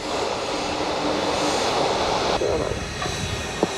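Aircraft engine noise beside the runway at Gibraltar, a steady loud roar filling the clip with a slight change in tone partway through, close and continuous.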